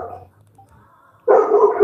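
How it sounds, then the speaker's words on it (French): A dog at a neighbouring camp lets out a brief faint whimper, then a loud, close bark rings out near the end. "c'est le camp d'à côté où il y a un chien qui aboie"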